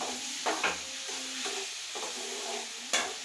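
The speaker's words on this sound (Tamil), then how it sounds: "இப்போ கிண்டி விட்டுக்கலாம். நல்லா வதக்கலாம்." Tomatoes sauté in a pan under a soft steady sizzle while a spoon scrapes and taps the pan in a few sharp strokes spread across the moment.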